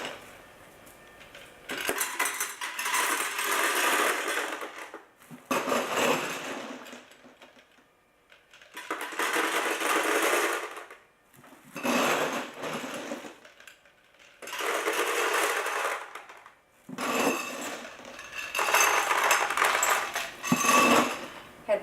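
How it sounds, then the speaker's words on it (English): Gumballs poured from a container into a gumball vending machine, repeated bursts of hard rattling and clattering several seconds each, separated by short quiet pauses, close and fairly loud. "Use some sort of container to fill your machine so you don't spill the gum everywhere."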